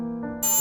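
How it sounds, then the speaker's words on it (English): An alarm clock blares in a short burst of bright electronic tone that briefly jumps higher and louder, close and harsh. "Her alarm blared in her ear"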